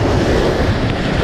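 Incoming tide surf washing up on a beach during rough surf fishing conditions, a loud continuous broadband rush of waves with wind buffeting the microphone.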